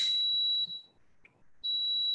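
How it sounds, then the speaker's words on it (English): A loud, steady high-pitched electronic beep from an electric kettle sounds, breaks off for about a second, then resumes just as loud. "If you're hearing very loud beeps, that's my kettle."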